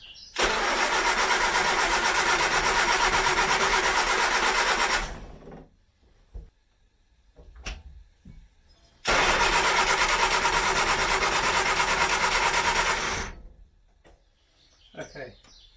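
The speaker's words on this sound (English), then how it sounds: "The engine runs, or will do, with a bit of fuel and the right power supply hooked up correctly." A 1970s Austin Allegro engine cranks and catches, runs at a loud steady idle for several seconds, cuts out, then starts again and idles once more before dying, with brief quiet gaps between.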